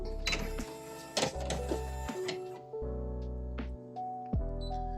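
An embroidery hoop is clicked and clunked into place on an embroidery machine, with several sharp plastic knocks over a steady tonal machine hum, close and moderately loud.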